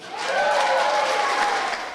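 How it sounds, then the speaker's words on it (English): A room full of people cheers and applauds as a Lloydminster school board member is named the Saskatchewan Party candidate at a nomination day, with steady, loud clapping and shouts sustained throughout. "A resounding cheer filled the room"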